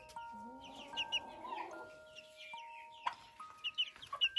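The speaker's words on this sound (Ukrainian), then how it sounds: "курчатка Амераукана." Soft clucking and peeping from Ameraucana chicks, with a few sharp chirps near the end, fairly quiet and close.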